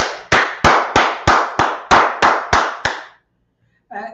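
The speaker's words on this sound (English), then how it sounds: "Let's clap it up for the Lord." Ten loud, evenly spaced claps ring out in a steady rhythm from a congregation praising the Lord during a Hebrew class, followed by silence and a brief burst of voices.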